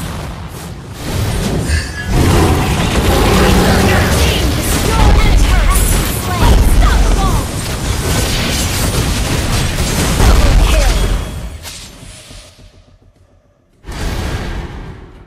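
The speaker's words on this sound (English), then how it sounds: "Your team destroyed a turret!" Turret being destroyed in the Mobile Legends video game: loud, sustained explosive booms and whooshing bursts that fade away, then a brief renewed burst after a short lull.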